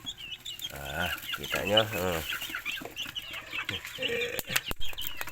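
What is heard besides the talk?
chickens fighting on a poultry farm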